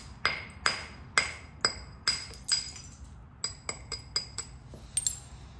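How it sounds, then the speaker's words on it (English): Flintknapping a coral arrowhead, a hard striker knocking flakes off the beveled edge: about a dozen sharp, clinking taps, loud and evenly spaced at first, then quicker and lighter, with no voices. "So we're gonna bevel it and try to shoot off some flakes."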